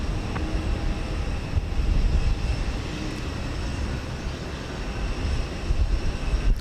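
A United heavy airliner rolls for takeoff on runway 15 left at Houston Intercontinental, its jet engines a steady, broad roar from the distance that swells slightly toward the end, with no voices.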